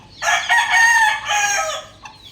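A three-month-old rooster crows once, close and loud, a long strained cock-a-doodle-doo lasting about two seconds, with a brief faint cluck at the end.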